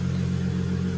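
A Holden VY Calais drift car with a swapped L67 engine idles close by, a steady low rumble with an even, unchanging beat throughout.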